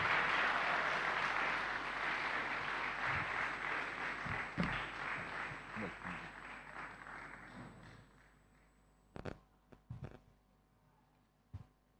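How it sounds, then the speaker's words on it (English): A keynote-session audience gives a sustained round of applause for badminton champion Pullela Gopichand, dense clapping for about eight seconds that then fades, followed by a few scattered taps and thumps. "Can we have a huge round of applause for him?"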